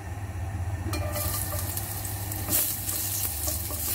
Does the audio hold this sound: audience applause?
no